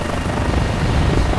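A helicopter on a sightseeing flight over Brazilian beaches gives a loud, steady rotor and engine roar that fills the short stretch without a break.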